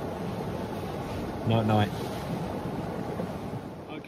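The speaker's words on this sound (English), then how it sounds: "the river's actually sounding quite quite fierce now" A fierce brook rushes beside a wild campsite on Dartmoor in bad weather, a steady loud roar of water that fills the whole clip, with a brief soft voice speaking partway through.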